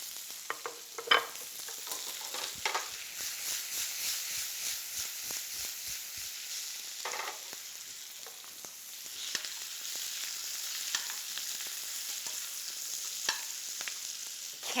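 Shallots fry in a pan with a constant soft sizzle. Scattered scraping stir strokes and a few sharper utensil knocks sit on top, close and moderately loud, with no talking.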